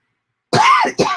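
A single close, loud cough bursts out after silence, followed by a shorter second hack, like a person with a lingering cough clearing their throat.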